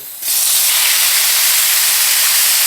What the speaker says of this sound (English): So I'm just going to take the chicken and I'm going to pour it in here.